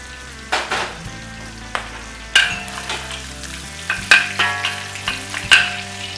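Shrimp frying in a pan for Singapore rice vermicelli noodles sizzle loudly and steadily up close, broken by repeated sharp scrapes and taps of a utensil stirring against the pan.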